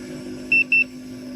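A low battery alarm gives two short, high electronic beeps in quick succession over a steady low hum in a woodturning workshop.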